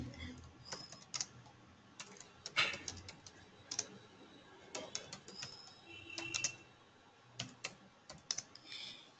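Fingers tap out a message on a computer keyboard in irregular bursts of crisp, close clicks, with faint pauses between words.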